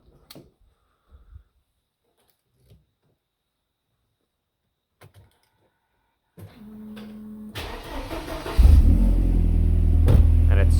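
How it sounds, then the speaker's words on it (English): A 2.3-liter inline-four car engine cranks and catches after a jump start from a battery pack, quiet clicks giving way to a loud, steady idle rumble that fills the last few seconds. "started up this engine without any issues"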